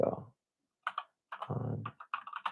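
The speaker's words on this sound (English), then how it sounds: "Let me just type this in real quick before you go." Typing on a computer keyboard comes in quick, uneven bursts of clicks, close by, with a voice speaking at the start and overlapping through the middle.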